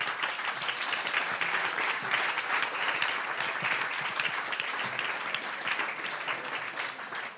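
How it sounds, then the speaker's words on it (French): An audience applauds at the close of a festival session on building a new rural model. The clapping is dense and steady, sustained at an even level for the whole stretch with no voices over it. "On peut applaudir."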